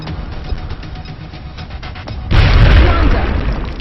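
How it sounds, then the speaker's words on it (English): A grenade blows up in the video game XCOM: Enemy Unknown, a sudden loud deep boom with a rumbling blast tail cutting in after a stretch of steady game ambience. "So, no holding back, let's toss a grenade in."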